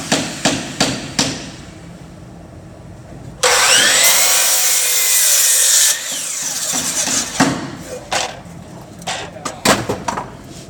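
A miter saw slices through a wooden leg piece for a miter joint in a workshop, a loud sustained whine of about two and a half seconds, framed by sharp knocks and clatter of wood being positioned before and after.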